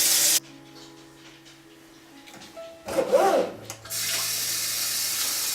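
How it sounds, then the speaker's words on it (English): Kitchen or bathroom tap running into a sink, first a loud short gush, then quiet, then the flow returns as a steady close hiss of water filling the basin. "so I did fill up the sink"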